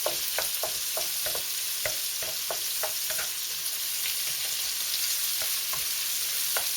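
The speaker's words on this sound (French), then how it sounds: "Donc après la viande, on met de l'oignon là-dedans." Chopped onion sizzles in a hot pan with meat, a steady close crackle of frying broken by regular scraping and stirring strokes, with no voices.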